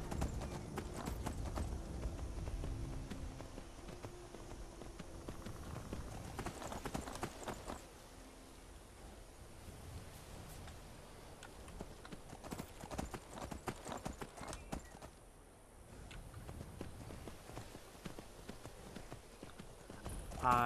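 Horse hooves clip-clop steadily while riding through a wooded area in Skyrim, a continuous close rhythmic trot of hoofbeats that briefly thins out near the end before resuming.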